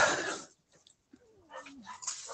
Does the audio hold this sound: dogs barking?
yes